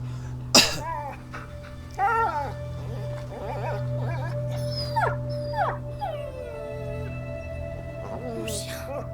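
Several short dog barks and yelps spread across the clip, with one sharp burst near the start, over a steady low hum and background game sounds in A Plague Tale.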